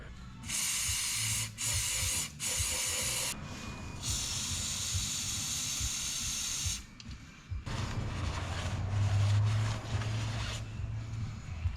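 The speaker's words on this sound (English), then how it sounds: "I'm going to clean out the throttle body. I'm just gonna use some MAF cleaner." Aerosol MAF cleaner sprayed into the throttle body of a 2nd-generation Toyota 4Runner, heard as several close, loud hissing bursts of varying length, with short gaps between them and a longer continuous spray near the end.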